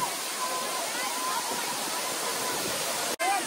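Savatkada waterfall at Rajapur in the Konkan region, a steady broadband roar of falling water that fills the whole clip, loud and continuous, with a brief dropout near the end.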